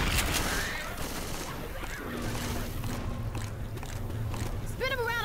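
Gunfire from the video game Left 4 Dead 2 in multiplayer play, a dense spray of rapid shots filling the scene, running under constant excited talk from players.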